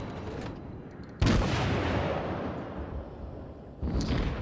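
Naval ship guns firing in World of Warships, a Tier I Japanese cruiser: two sharp, loud booms with broadband blast, the first followed by a long rumbling decay, the second coming about two and a half seconds later.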